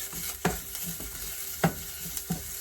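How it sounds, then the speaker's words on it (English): Garlic frying in a pan alongside browned onions, a steady soft sizzle with a few sharp scraping stirs of the spoon standing out over the constant hiss. "we add in our garlic. Let that cook for a few minutes."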